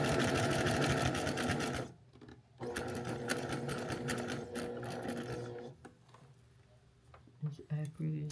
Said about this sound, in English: Make sure that you're sewing as accurate as you can on that 1/4 inch.